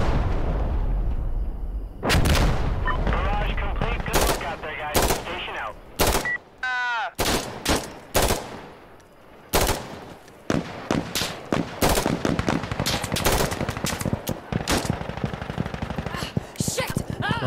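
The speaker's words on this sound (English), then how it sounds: "I think somebody's shooting from the back right now." Gunfire in Insurgency: Sandstorm during a night-mode match: loud rifle shots crack in sharp bursts and rapid strings, some close and some farther off, with a player talking briefly between them.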